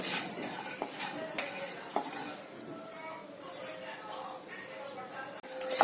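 Whole spices clatter as they are stirred in a dry hot pan without oil, with metal spoon scrapes and clinks against the cookware in an uneven rhythm at close range.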